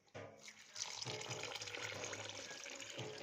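Water pours steadily from a tap into a homemade date and sugar drink, a soft continuous splashing stream that runs for a few seconds at low volume.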